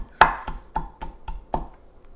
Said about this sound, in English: Bash it up with my wooden spoon.